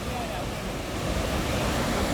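Athirapally waterfall roaring steadily in the background, a dense continuous rush of water that fills the whole clip with broadband noise, with some wind buffeting the microphone.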